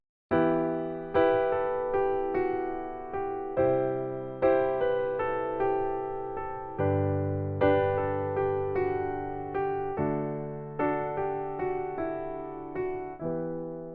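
A solo piano plays a flowing pop fill of repeated struck chords and melodic runs, bright and clear, with no voices.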